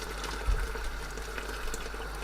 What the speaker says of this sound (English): let's start getting our hot water in